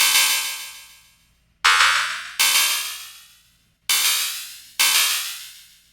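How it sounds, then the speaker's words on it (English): Ableton Spectral Time delay effect with frequency shift, heard as bright synth-like tones struck four times, each leaving a decaying echo tail whose pitches glide up and down. No voices are present. "Now shift causes each delay to move up or down in hertz values."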